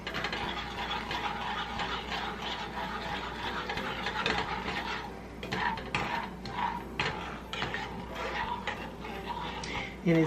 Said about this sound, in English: And now I am going to stir.